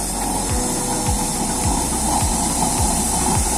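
A homemade split-half used-oil stove burner with a cylindrical hinge nozzle, turned up to its highest setting, gives a steady, loud hiss and roar with low rhythmic thumps underneath, close by and without any talk.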